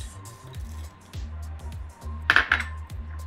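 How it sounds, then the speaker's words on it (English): Oats and pecans tumble into a bowl of butter and maple syrup filling, a short soft pouring rattle with a couple of brighter clinks near the end, close and quiet. "We're gonna add the oats and pecans"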